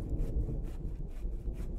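Wood is sawn into boards in the video game The Infected with a steady back-and-forth rasp, each stroke rising and falling in regular rhythm, close and fairly loud with no talk.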